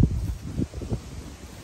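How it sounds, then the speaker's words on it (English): Gusty wind buffets the microphone outdoors near a donkey, a low rumbling roar with brief rustling bursts and no voices. "I'm sorry it's so windy"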